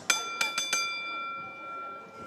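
A boxing ring bell at a professional boxing event is struck four times in quick succession. Each bright, clanging hit rings on and slowly fades into the quiet hall.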